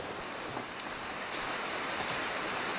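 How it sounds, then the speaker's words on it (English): Steady broadband wind rushing continuously in the video game The Long Dark, a dense hiss that swells slightly partway through, with no other sounds. "Okay, so it's getting pretty windy."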